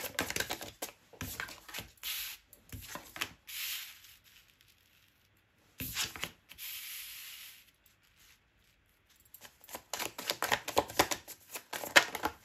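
Tarot cards being shuffled by hand in bursts of crisp riffling and rustling, separated by quiet pauses, with a busier run of card flicks at the end; no voice.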